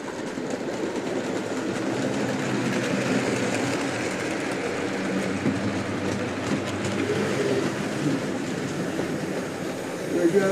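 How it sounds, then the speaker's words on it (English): Model train rolling along a RRinaBOX QuickieLine kit track, a steady rumbling clatter that holds close and fairly loud for the whole stretch, with a faint bump near the end. "see if I get the train to come down without a car on it"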